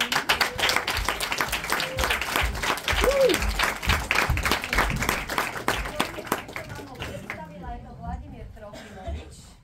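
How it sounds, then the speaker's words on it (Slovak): Audience at a conservatory seminar applauding an accompanist, brisk clapping that starts full and thins out toward the end, with voices talking over it. "Potlesk, prosím."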